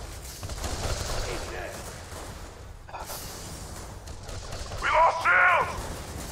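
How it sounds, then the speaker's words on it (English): Gunfire and grenade explosions from the Borderlands 2 video game crackle in bursts, with a louder blast cluster near the end and a voice faintly audible at moments. "So I'm fucking bombarding the blimp with my fucking fastball grenades."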